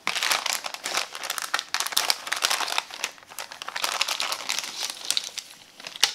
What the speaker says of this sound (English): And now let's open the packaging.